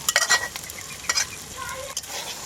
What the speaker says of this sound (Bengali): এই মানকসু বাটা দেওয়ার পরে আমি অনবরত নাড়তে থাকবো, আর তলে যেন না লেগে যায়।